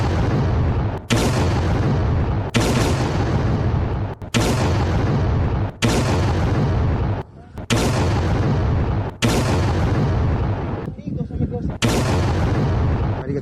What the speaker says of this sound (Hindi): वहां एक दो नहीं दर्जन भर धमाके हुए